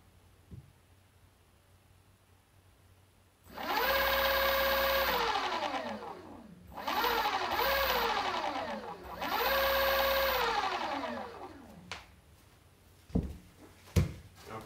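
A BBSHD mid-drive e-bike motor, freshly greased at its main steel gear, runs up in three close whining bursts, each rising and falling in pitch, followed by a few sharp clicks.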